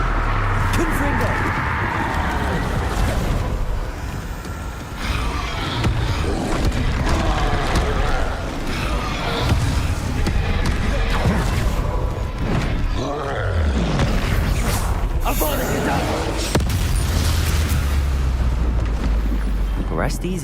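Heavy booming blasts of the Confringo fire spell burst repeatedly during combat in the video game Hogwarts Legacy, deep rumbling explosions mixed with game effects and frequent speech throughout.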